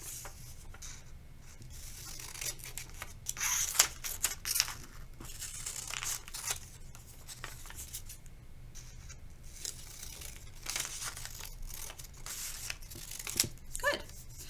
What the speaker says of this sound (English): I'm cutting carefully and partly